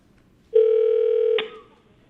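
A single electronic telephone tone sounds at a school board meeting, a steady beep held for about a second before cutting off, clear and close with no speech.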